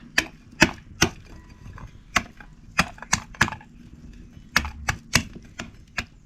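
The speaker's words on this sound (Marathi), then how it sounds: "फोडणीसाठी आपल्याला ना लसूण टाकायची आहे, अशी चेचून टाकायची बघा." Garlic cloves are crushed with an old stone kept for chutney grinding in a Konkan kitchen. Sharp, close knocks come in irregular bursts, some landing in quick pairs, with quiet gaps between them.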